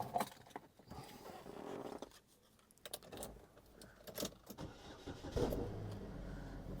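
A car's engine cranks and starts at a public auto auction, a vehicle thought to be a 2014 model. The start is fairly quiet and close, with key jingles and mixed noise around it, and a low idle rumble follows.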